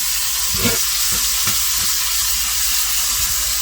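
Ground beef frying in a hot pan with a steady broad sizzle, broken up by a flexible spatula with pointed edges that scrapes and stirs in several short strokes, close and loud.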